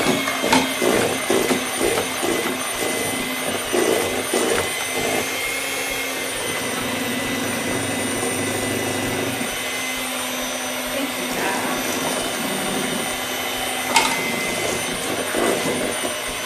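Electric mixer beating pumpkin cake batter in a bowl, a steady close motor whine running throughout with bumps and scrapes against the bowl, faint voices underneath.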